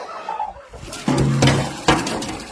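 Ducks on a backyard poultry farm give a few loud, close calls in short bursts, with no talking.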